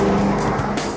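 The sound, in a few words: Ford Mustang V8 car driving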